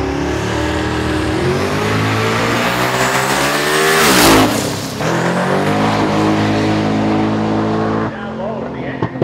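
A race car engine revs hard during a qualifying lap, a loud, sustained harmonic roar that climbs in pitch, drops and surges again, with a brief dip as the car shifts and an announcer talking over it.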